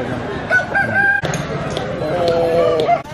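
Aseel fighting rooster crowing at Jhilimili forest market, one long loud crow rising and held under busy market chatter and background voices.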